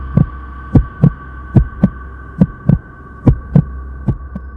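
A steady heartbeat thumps in close, paired lub-dub beats repeating at a quick, even pace over a low droning hum, used as a tense sound effect in a spoken horror story about a chair in a bedroom.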